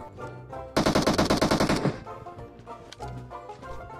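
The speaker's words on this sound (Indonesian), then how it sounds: "Tembakan yang tidak berguna." Automatic gunfire in the PUBG Mobile battle game: a loud, close burst of about a dozen rapid shots lasting just over a second, set among quieter game sounds, with more distant scattered shots afterward.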